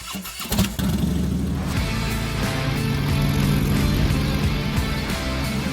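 A Harley-Davidson Sportster motorcycle engine catches after a brief crank and settles into a loud, close, steady rumbling idle with a pulsing low throb.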